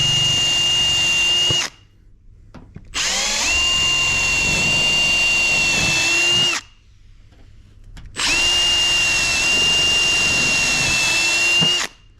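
A power drill with 4 mm bits bores into roof overcapping sheet metal in three separate bursts, each a loud steady whine lasting a couple of seconds with short quiet pauses between them.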